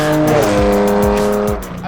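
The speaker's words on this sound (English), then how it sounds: "The next thing you're going to notice about driving a Theon 911 is, of course, the noise." Theon Design Porsche 911 coupe engine and exhaust in its loud exhaust mode while driving, a steady rich tone with repeated quick rev dips as it shifts up, close and loud throughout.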